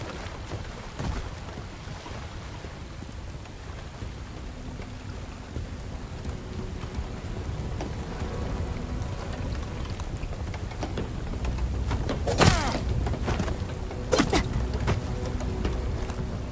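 Rain pours steadily in the video game Bright Memory: Infinite, a dense constant hiss, joined near the end by two sharp cracks of thunder.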